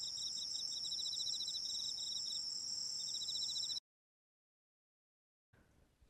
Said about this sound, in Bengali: বাইরে ঝিঝি পোকার ডাক।